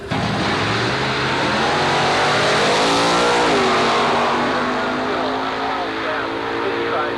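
Antique drag race cars at Carlsbad Raceway, including a 1964 VW Notchback, roar down the strip in a loud, steady engine drone that rises in pitch, with an announcer's voice running over the noise.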